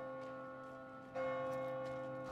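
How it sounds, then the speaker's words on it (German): Church bells ringing in the video game Diablo IV, a sustained, fairly quiet tolling tone that swells slightly louder partway through, heard alone without talk. "Es gongt und glockt."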